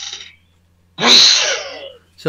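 A single loud, close sneeze bursts out and lasts about a second, preceded by a brief fragment of speech, with another sound starting just at the end.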